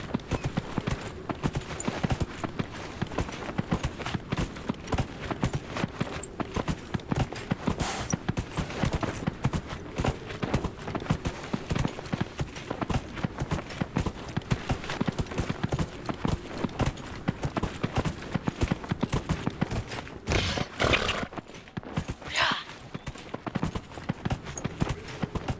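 Horse hooves clip-clop in a steady, continuous rhythm throughout, close and even-paced, with a faint background hum, from the video game Dragon Age: Inquisition.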